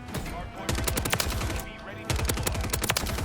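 Superi 46 submachine gun fire in Call of Duty: Modern Warfare, with two loud, close bursts of rapid automatic shots separated by a short pause.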